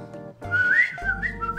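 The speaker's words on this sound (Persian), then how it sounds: "با کیبورد سوت میزنم." A synthesized whistle voice played on a keyboard carries a short, sliding melodic phrase over deep sustained bass notes and soft chords, bright and up front with no talking.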